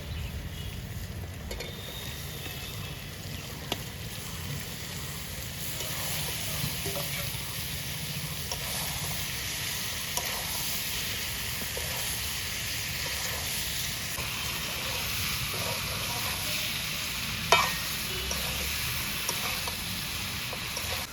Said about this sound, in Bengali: তো এবার সিদ্ধ করা কাঁঠালটা দিয়ে দিচ্ছি।